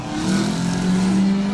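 A car with an X-pipe exhaust and 4x12 tips revs loudly and steadily, a deep droning tone swelling and holding close by with no talk over it.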